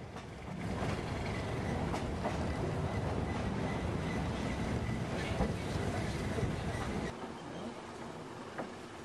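Steady rumble of a moving tourist train through a Costa Rican rainforest banana plantation, faint rhythmic clicks on the rails, continuous throughout before easing slightly near the end.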